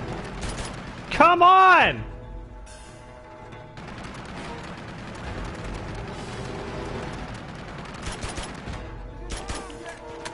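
Rapid gunfire in Uncharted 2 as shots pour into an enemy, crackling bursts over game music with a loud tonal swell early on, while someone shouts over the action.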